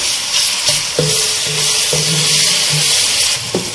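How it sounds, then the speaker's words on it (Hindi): Chopped tomatoes fry with ginger in a pan for an aloo methi sabzi, a steady close sizzle broken by several short scraping stirs of a spatula, with no talk. "टमाटर डाल के भी हमें इसे अच्छी तरह से भूनना है।"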